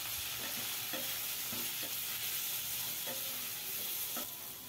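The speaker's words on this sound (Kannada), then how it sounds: "ರುಚಿಗೆ ತಗ್ಗ ಉಪ್ಪನ್ನು ಸಹ ಸೇರಿಸಿ ಚೆನ್ನಾಗಿ ಫ್ರೈ ಮಾಡಿಕೊಂಡು" Sambar masala with coriander powder, chili powder and salt frying in a pan for drumstick sambar, a steady close sizzle broken by several soft scrapes and taps of a stirring spoon, with no talking.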